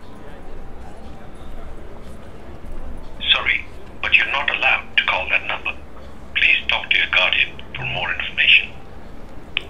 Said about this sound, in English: And then Bob tries to call Alice